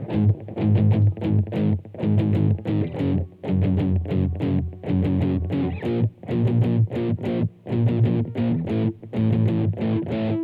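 An electric guitar with heavy distortion plays a gospel song in loud, choppy rhythmic chord stabs separated by short gaps. The playing is close and upfront, with no voices.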